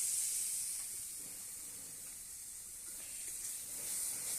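A spiced filling with turmeric, coriander and cumin powder sizzles steadily as it is sautéed in a pan for an egg-and-bread snack, a continuous close hiss swelling slightly toward the end.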